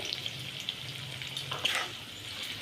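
Sliced onions for beresta frying crisp in hot oil with a little sugar, a steady close sizzle with a brief louder burst partway through.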